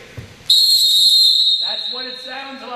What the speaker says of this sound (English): Fox 40 whistle